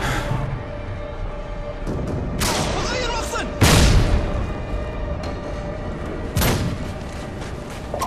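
Gunfire in Call of Duty: Modern Warfare 2, a FAMAS in Domination on the Afghan map, with loud, sharp bursts and booming shots over a steady background din, repeating several times.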